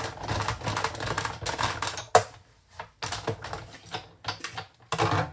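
A card is fed through a die-cutting machine. Close, dry clicking and clattering come in a quick irregular patter with a couple of short gaps.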